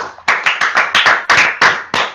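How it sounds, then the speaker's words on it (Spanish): One person claps hands close by, about nine sharp, loud claps in a slightly uneven rhythm, with short gaps between them and no talking. "soy la única que aplaude cuando ustedes aplauden en un video"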